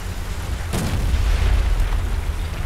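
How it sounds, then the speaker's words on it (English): A bomb explodes in War Thunder ground forces combat, a sudden heavy boom with a sharp burst that rolls into low rumbling amid ongoing battle noise. "No, that's a bomb."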